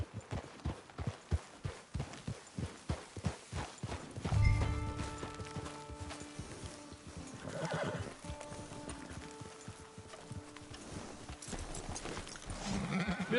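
Horse hooves clip-clop in Red Dead Redemption 2, a steady rapid rhythm of close, clear hoofbeats over the first few seconds, then a whinny and softer movement under an instrumental music bed.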